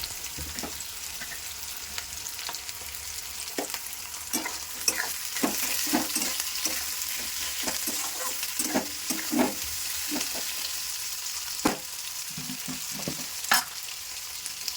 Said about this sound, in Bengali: এবার আমি আলু আর বটবডি ঢাকা দিয়ে ভেজে নেব।